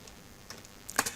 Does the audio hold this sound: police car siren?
no